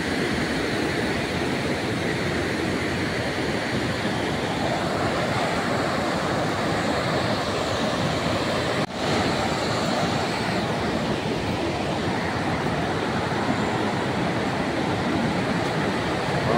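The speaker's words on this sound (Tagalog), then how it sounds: "Sobrang lakas ng agos." A strong water current rushes past in a steady, loud, broadband roar that continues without a break.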